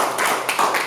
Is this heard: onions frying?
no